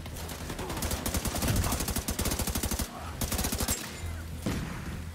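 Rapid automatic gunfire from a firefight in The Division 2 video game, loud sustained bursts of machine-gun fire with brief pauses, shouting voices mixed in.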